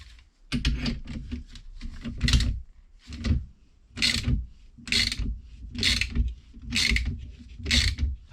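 A spring compressor is tightened down on a 2015 Mini Cooper D F55 front coil spring strut, giving repeated bursts of close ratcheting clicks in an uneven rhythm with short pauses between strokes.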